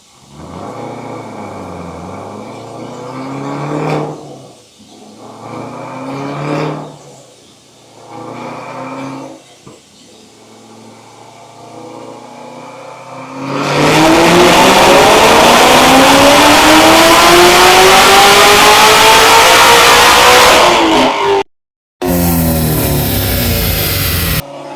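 A 2018 Chevrolet Camaro ZL1 1LE engine revs on a dyno, first in several rising blips, then in a long, very loud full-throttle pull that climbs steadily and cuts off abruptly before a brief resumption.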